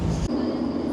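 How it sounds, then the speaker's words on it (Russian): An underground metro train in Lisbon, Portugal, rumbles steadily from inside the carriage, with a sudden shift in the drone early on as the ride continues. "спустились в метро и сейчас едем к нашей комнате, которую мы сняли"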